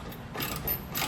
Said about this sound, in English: We can now go back and snug our hardware up.